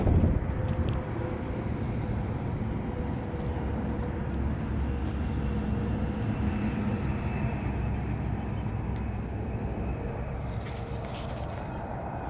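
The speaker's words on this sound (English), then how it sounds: "something's rubbing back there when it's trying to turn over one of the belts or something from the damage." A damaged 2013 Jaguar XJ engine cranks as it tries to turn over, a steady mechanical drone with a faint rubbing from a belt, continuous and fairly loud throughout.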